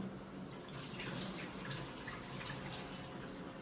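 Water runs steadily close by while a chicken head is washed with turmeric, a continuous splashing wash with no voices.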